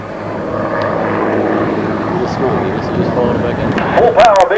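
An Aero Commander Shrike twin-engine propeller airplane roars at full power during an airshow aerobatic routine, a loud, steady, close engine drone with shifting pitch under continuous commentary from a man.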